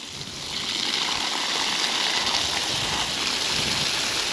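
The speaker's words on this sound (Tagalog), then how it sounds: "Lakas pa ng hangin." Steady, strong wind roars and rushes, rising after a brief quieter start and holding as a broad continuous whoosh.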